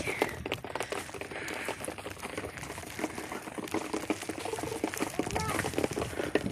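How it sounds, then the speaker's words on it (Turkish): Steady wet pattering of sleet falling outdoors, a dense crackling hiss that runs throughout, with voices talking over it. "Sulu kar yağıyor."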